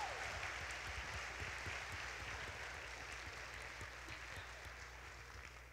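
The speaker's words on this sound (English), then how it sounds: "How about a round of applause for our kids running all these cameras?" Sustained audience applause fills a school dance show auditorium, a dense steady wash of many hands clapping that fades slightly toward the end, with no talking over it.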